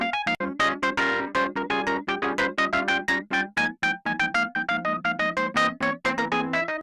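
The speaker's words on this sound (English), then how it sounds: "So I got the keys in mono" Electronic keys recorded live in mono play a rapid run of bright, staccato chords and notes, close and fairly loud, with a busy, slightly harsh rhythmic pattern.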